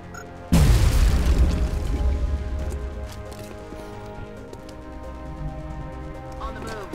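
A grenade in the video game XCOM: Enemy Within detonates with one sudden, loud boom that rumbles and slowly fades over a few seconds, followed by a quieter ambient tail.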